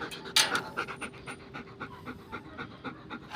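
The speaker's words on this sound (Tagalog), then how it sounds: "Mahawak ako ng malaking aso" Large, gentle dog panting in quick, steady rhythmic breaths close by, with a brief louder huff near the start and no talking.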